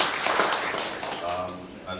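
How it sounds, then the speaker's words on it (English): Brief, fairly faint applause from the audience at the KIWASCO annual stakeholders meeting, a short patter of claps that fades under a speaking voice. "A round of applause for"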